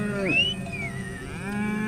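Cattle moo near grazing land outside a park where Maasai herdsmen keep their herds, one long, close, rising and falling call over a low steady background.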